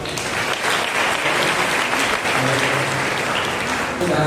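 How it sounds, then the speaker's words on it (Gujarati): Sustained applause from a gathered audience at a church awareness-week youth event, dense steady clapping filling the whole stretch with a faint voice briefly underneath near the end. "ટોટલ તાળીઓ પડી"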